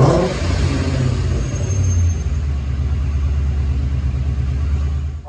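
High-mileage supercharged 2011 Ford Mustang with a Gen 1 Coyote V8, built for street and strip, revving loud and close with a deep, steady throaty rumble.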